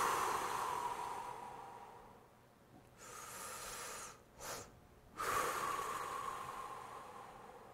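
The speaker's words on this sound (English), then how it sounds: "Then you exhale a strong, long exhale that's twice as long as the inhale." A slow breathing exercise for stress relief: a full inhale, then a long, forceful exhale roughly twice as long, breathy and close, with a quiet pause between.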